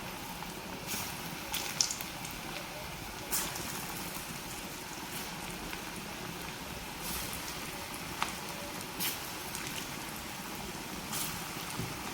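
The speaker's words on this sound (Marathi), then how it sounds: "ही भजी आपल्याला वरतीच तळून घ्यायची आहे" Moong dal bhaji fry in hot oil over a medium flame, giving a soft, continuous sizzle with scattered small pops and crackles close by.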